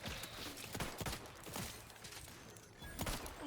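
Gunfire in the video game Outer Worlds 2, a quiet series of sharp shots at an uneven rhythm with thuds and mechanical clicks between, no talk.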